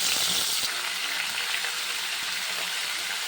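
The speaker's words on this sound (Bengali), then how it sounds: "সবজি কেটে কালো জিরা সম্বাদ দিয়ে দিয়েছি সবজিটা ভেজে নেবো" Mixed vegetables frying with black cumin in a pan, giving a dense, continuous hiss and sizzle up close, steady and even throughout with no voice.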